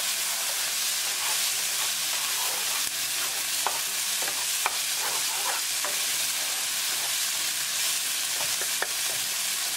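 Tomatoes and mixed vegetables stirred in a pan, a constant loud sizzling hiss with occasional soft clicks and scrapes of a utensil, close and uninterrupted.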